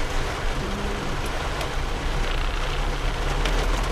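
Heavy Mumbai rain pours down as a dense, steady roar of drops hitting surfaces, loud and continuous throughout, with faint traffic rumble underneath.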